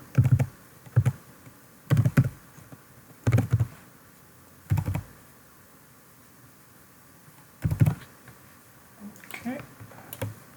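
Short bursts of key presses on a computer keyboard as a password is typed, arriving in separate clusters with quiet gaps between, fairly close and soft.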